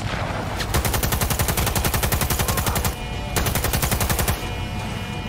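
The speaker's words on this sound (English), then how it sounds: "More shotgun action." Rapid automatic gunfire in the video game Cyberpunk 2077, played with a shotgun, rattling loud and close in long continuous bursts with a brief break near the three-second mark and another near 4.4 seconds.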